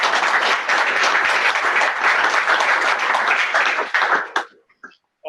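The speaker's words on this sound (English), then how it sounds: "A big round of applause for all of us." Loud, dense applause from an audience at a company Founder's Day event fills the room, steady for about four seconds before tapering off abruptly into near silence.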